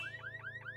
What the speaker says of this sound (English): the car had an alarm and it made a very loud noise